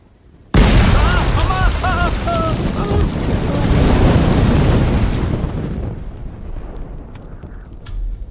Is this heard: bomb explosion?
yes